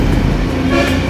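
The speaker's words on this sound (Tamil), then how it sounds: "ஹாரன் அடித்தா மட்டும்" A motorbike horn blares in a sustained, loud honk over engine noise on a misty ride from Athirappilly to Valparai, no talking.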